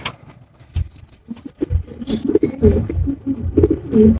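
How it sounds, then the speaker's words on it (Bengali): A pair of brown Telmark pigeons at a pigeon farm, giving soft, repeated throaty coos close by, with a few clicks and faint engine noise in the background. "অনেক সুন্দর এক জোড়া কবুতর টেলমার্ক কবুতর"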